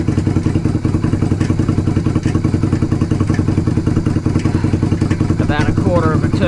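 A bobber motorcycle engine with a slash-cut exhaust fitted with a 45mm baffle idles loudly and steadily with a throbbing, uneven beat during carburetor adjustment, and a voice is heard briefly over it.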